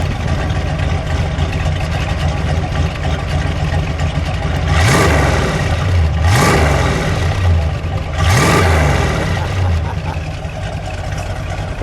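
A 1971 Dodge Charger R/T with a 440 Six Pack V8 revs loudly and close by in three sharp bursts over a steady idle rumble, each climbing and falling away.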